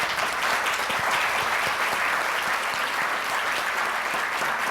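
Sustained audience applause for the panelists at a Michigan policy conference session on racial equity and population growth, dense and steady throughout, loud and even with no talk over it.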